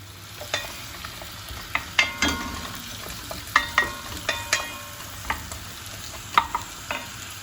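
Onions and carrots frying in a heavy non-stick pan, with a steady low sizzle broken by a run of sharp scraping stirs and clacks of a utensil against the pan.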